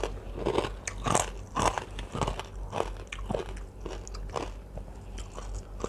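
Crunchy pork crackling is bitten and chewed up close, giving a run of sharp, crackly crunches in an irregular rhythm, loud and clear with almost no talk.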